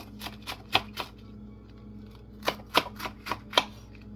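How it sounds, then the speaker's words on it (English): Knife slicing lengthwise through romaine lettuce on a cutting board: a few crisp crunching cuts, a short pause, then another quick cluster of sharp, close strokes. "So when you cut your romaine lettuce, cut it longwise first,"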